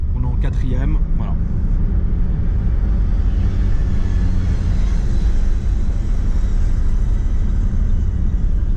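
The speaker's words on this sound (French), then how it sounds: "Donc là, on accélère. On est en 4e." A Lamborghini Aventador S engine roars steadily in a sustained fourth-gear acceleration, dense low rumble filling the cabin, with a brief voice at the start.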